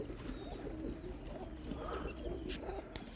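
Young roller pigeons from a training kit coo softly and steadily at close range, low repeated calls layered over a busy background of other birds and occasional faint chirps.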